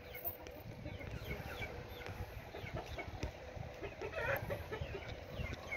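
Soft clucking from roosters in the background, faint and scattered, mixed with low rumbling ambient noise.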